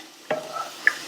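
A single scrape of a spoon stirring potatoes frying with masala powder over a high flame, with a soft background sizzle and a brighter scrape near the end; very short, close up, no voices.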